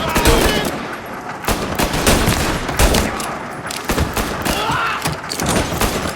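Sustained gunfire from a shootout in Mafia Definitive Edition, with dense bursts of automatic shots and heavy thuds repeating throughout, loud and close, with occasional shouted game voices mixed in.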